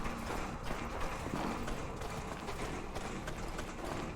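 Horse hooves clip-clop steadily in the medieval combat game Mordhau, a continuous run of close, busy tapping over a dense mix of battle noise.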